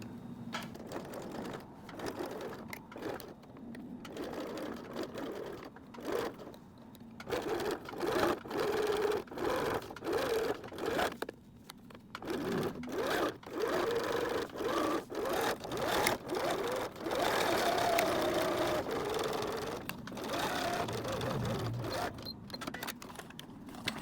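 A sewing machine stitches bag straps in bursts of fast, rhythmic mechanical whirring, each run lasting a few seconds and separated by short pauses, close and steady throughout.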